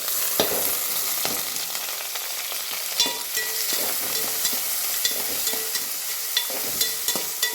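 Onions fry in a pan with a loud, constant sizzle heard up close, broken by frequent light taps and scrapes from stirring; no speech.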